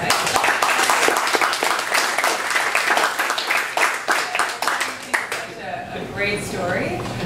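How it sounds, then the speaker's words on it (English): A workshop audience gives a brief round of applause, dense overlapping claps at close range filling most of the stretch before thinning out, while people talk and murmur over the end. "just a quick round of applause."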